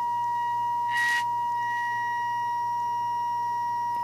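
A signal generator oscillator tone plays through a vintage Emerson 31T56 AM/FM table radio as a steady, slightly distorted whistle over a low hum, with a brief burst of static about a second in.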